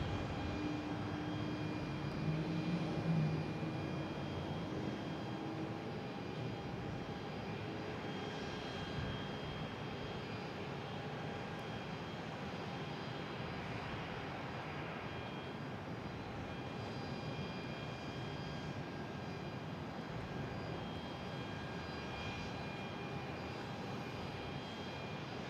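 A Lufthansa Airbus A350-900 jet at Boston Logan Airport, its engines giving a sustained, even roar with faint whining tones, steady in level for the full length.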